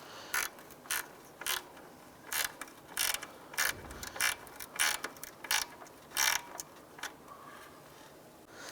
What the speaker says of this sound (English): I'm going to go ahead and start tightening down that capture nut